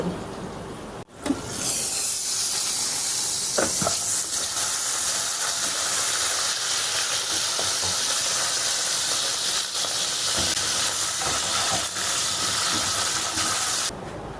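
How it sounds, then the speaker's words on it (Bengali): A mixer grinder grinding a paste starts up after about a second and runs as a loud, steady whirring roar close by, then cuts off right at the end. "এবারে আমি এই পেস্টটা করে নেব মিক্সিতে"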